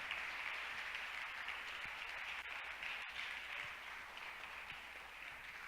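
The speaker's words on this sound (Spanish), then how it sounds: "si le va a dar un aplauso, déselo con ganas" A church congregation applauds with sustained, dense clapping that stays steady and full throughout.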